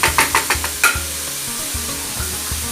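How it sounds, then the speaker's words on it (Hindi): Chopped tomatoes, chilies and potato samosa filling frying in a pan, a loud steady sizzle with a quick series of rhythmic spatula scrapes at the start, close and continuous. "अब थोड़ा सा फ्राई कर लें। फ्राई हो रहे हैं।"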